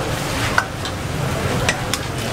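Steady sizzling from a hot pan with occasional metallic scrapes and clinks of a spatula as a massive batch of Indonesian nasi goreng is stir-fried by several cooks at a street stall.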